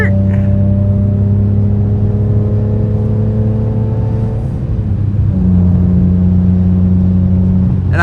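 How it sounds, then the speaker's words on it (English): BMW E46 M3 engine droning steadily while driving at normal speed, with a clear shift around the middle where the pitch drops and then settles into a new steady tone, loud and close inside the car. "I think even if I'm just driving the speed limit and shifting as normal, I think this car sounds great"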